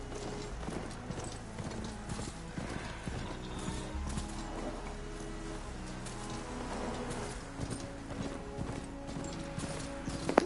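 Steady clip-clop of a mechanical mount's hoofbeats in the video game Horizon Forbidden West, continuous and fairly close, with faint whirring mechanical sounds and a few bird calls in the background.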